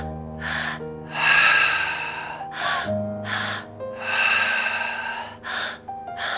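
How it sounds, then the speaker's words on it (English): Several rounds of guided breathwork come through as forceful, close rhythmic inhales and exhales, sharp gasping intakes alternating with sustained breaths over soft background music. "I'm going to seal our practice together with 10 final rounds of breath with you."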